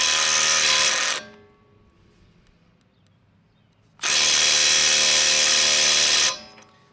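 Milwaukee M12 Gen 3 impact driver (3453-20) working a fastener loose: two loud, close bursts of rapid hammering impacts, the first about a second long and the second over two seconds, separated by near silence.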